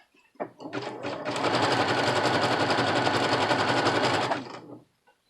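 Sewing machine stitching with a presser foot at a lengthened 4.0 stitch setting, running in one continuous loud, rapid mechanical whir for about three seconds before stopping.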